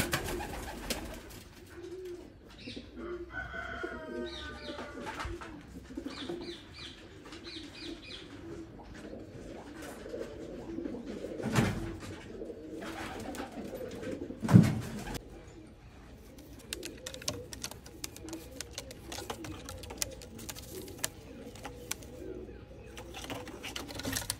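Pigeons cooing inside a loft, soft repeated coos and occasional wing flutters and knocks at close range over a quiet background.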